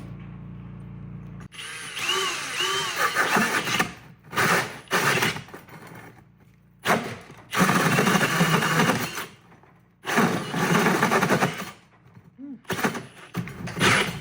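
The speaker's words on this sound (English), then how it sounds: "Now we drill a hole." A power drill with a hole saw bites into wood in several loud bursts, whining and grinding with jerky stops and restarts between runs.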